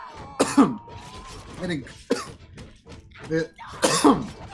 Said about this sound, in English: I coughed something.